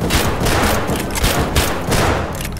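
Rapid gunfire in the video game Escape From Tarkov, a dense fusillade of overlapping shots and bursts running loud and close throughout.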